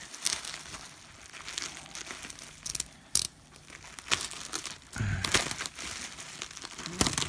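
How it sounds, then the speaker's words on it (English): Plastic and paper packing around a comic crinkles and tears as it is cut away, with close, irregular rustling bursts and a few sharper crackles between quieter pauses. "I'm trying to cut away from the comic."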